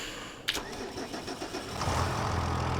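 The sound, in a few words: tractor engine starting in video game Farming Simulator 25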